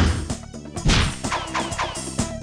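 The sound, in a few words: censored Pulp Fiction gunshot scene sound effect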